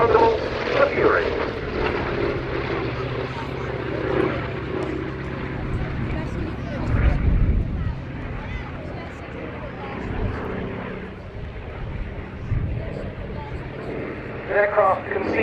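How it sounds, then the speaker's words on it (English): A Fury FB.II propeller fighter flies at the Duxford Battle of Britain airshow. Its engine drones and swells as it passes, loudest around the middle, while a commentator talks throughout. "For now, taking the place of the Thunderbolt, the Fury."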